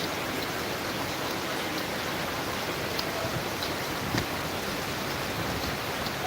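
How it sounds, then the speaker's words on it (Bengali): Steady rain falls outdoors near Narayanganj, Bangladesh, a continuous even wash of drops on surfaces with no voices, holding at a constant level throughout. "আমি আর আমার মেয়ে বসে বসে বৃষ্টি দেখতেছি"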